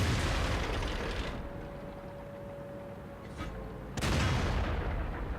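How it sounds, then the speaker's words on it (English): Artillery fire in the World of Tanks video game, with loud broadband blasts at the start and again near the end, separated by a quieter stretch holding a faint whistling tone. "here comes artillery"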